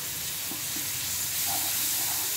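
Spices frying in a pan after two tablespoons of yogurt are added and stirred in for aloo palak curry, giving a steady close sizzle and hiss with faint stirring scrapes, no voices.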